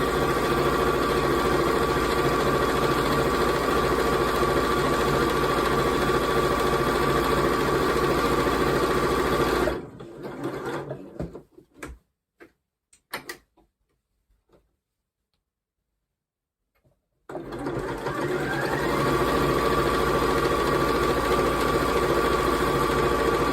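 A sewing machine stitches a make-up brush roll, a steady close motor hum that runs for about ten seconds, cuts out into near silence with a few faint clicks, then starts up again and runs on.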